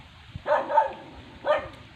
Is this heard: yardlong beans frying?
no